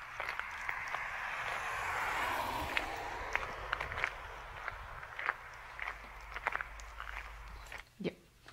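Spiked shoes crunching along a surface in a steady walking rhythm, each step a sharp, close, gritty transient, with a rougher scraping stretch early on and a heavier thud near the end.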